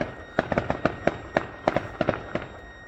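A midnight fireworks display in Small Heath, Birmingham, sends a quick run of sharp cracks and pops echoing in the distance over a steady background hiss.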